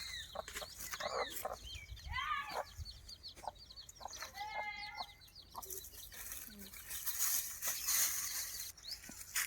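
Several free-ranging country chickens cluck and chatter nearby on a farm, with intermittent calls overlapping and a voice talking faintly in the background.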